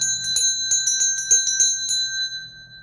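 A bright notification bell rings in a quick cluster of repeated dings, close and clear, then fades out.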